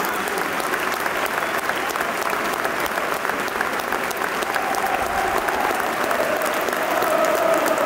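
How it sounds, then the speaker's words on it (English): A large football stadium crowd claps steadily and continuously, a dense wash of applause that swells slightly louder toward the end. "I'm guessing we're clapping for some reason."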